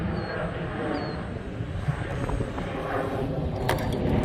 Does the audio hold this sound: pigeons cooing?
no